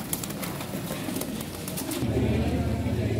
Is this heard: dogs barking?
no